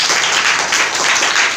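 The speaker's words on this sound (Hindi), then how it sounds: "जोरदार ताली बजाइए आप" Schoolchildren in a classroom clap together in a dense burst of applause, loud and close, filling the whole short moment with no voices over it.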